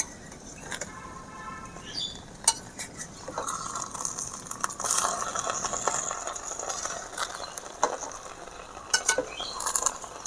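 A spoon stirs basanti pulao rice in a cooking pot, giving soft scraping and clinking strokes with gentle sizzling beneath, close and moderately quiet, with a few sharper taps against the pot.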